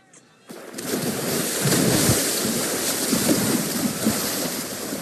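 A water splash sound effect, played during a Baltimore Orioles versus New York Yankees baseball broadcast, bursts in after a brief quiet start and then continues as a loud, sustained, rushing wash of water.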